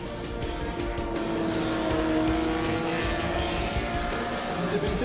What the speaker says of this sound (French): Les deux courses de Trofeo du week-end sont remportées par le local de l'étape, le Belge Vincent Guay, qui n'a pas ménagé sa Ferrari 275 GTBC.